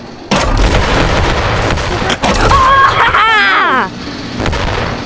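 Cluster grenades go off in the video game Animal Company as a string of loud, close booms and bursts, with a warbling whine and voices mixed in partway through.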